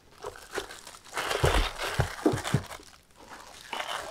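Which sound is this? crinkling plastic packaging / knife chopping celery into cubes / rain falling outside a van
crinkling plastic packaging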